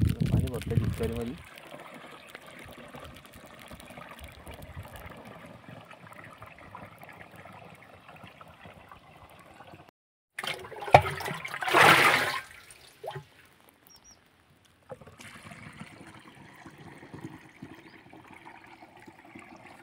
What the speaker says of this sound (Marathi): पाणी भरतं डिस्करीमध्ये।